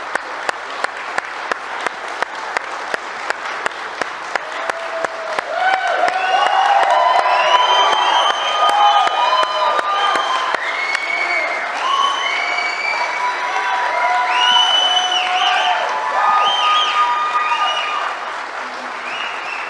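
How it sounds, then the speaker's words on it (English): An audience at a symposium applauds and cheers, sustained clapping swelling into a loud, dense ovation with whoops and shouts rising over it, then tapering slightly near the end. "So I really want to applaud you, Mike, for doing that."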